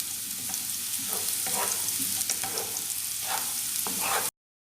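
Finely chopped onions sauté in a pan with a steady, close sizzle and repeated stirring scrapes at irregular intervals, then the sound cuts off abruptly.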